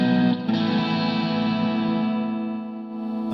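Overdriven Stratocaster electric guitar holding a sustained, distorted chord with clearly separated notes, loud and up close with a short attack at the start that rings out steadily, no voices.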